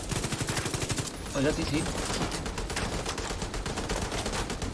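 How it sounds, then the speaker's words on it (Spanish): Rapid automatic gunfire fired at a Mars robot in The Division 2 video game, dense bursts of shots rattling continuously and loud, with a voice briefly speaking over the shooting. "Estoy disparando al robot de Marte."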